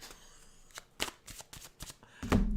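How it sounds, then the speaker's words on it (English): A deck of reading cards is shuffled in several quick, crisp bursts, close to the listener, with the last and loudest burst at the end. "Shuffle, shuffle, shuffle, shuffle, shuffle."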